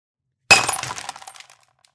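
A glass bottle is thrown and smashes inside a McDonald's restaurant: one loud, sharp crash from near silence, then tinkling shards that scatter and fade over about a second.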